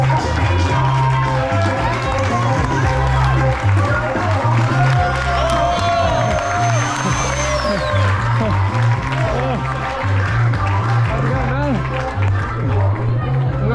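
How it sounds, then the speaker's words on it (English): Crowd applause and cheering at the finish line of the Swiss Peaks 360 ultra race, sustained and loud throughout, mixed with an announcer's voice and a steady rhythmic music beat underneath. "On applaudit bien fort."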